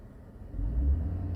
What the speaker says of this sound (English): I don't know why I revved it